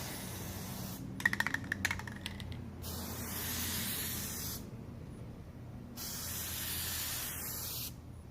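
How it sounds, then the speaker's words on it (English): An aerosol can of Plasti Dip glossifier sprays onto a grill in three long steady hissing bursts separated by short pauses, close and fairly loud, with a few rattling clicks of the can being shaken before the first burst. "We're gonna apply our 2 coats of glossifier."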